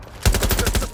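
Automatic gunfire in Watch Dogs Legion, a loud, close burst of rapid shots firing in a steady stutter for under a second.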